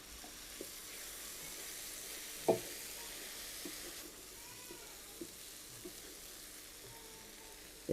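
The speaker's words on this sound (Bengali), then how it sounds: "আর এই মশলাগুলো এখন আমি ভালো করে একটু কষিয়ে নিব।" Ground coriander, chilli and turmeric with a splash of water and roasted cumin frying in a pan for fish rezala, a faint steady sizzle with occasional clinks of a spoon stirring.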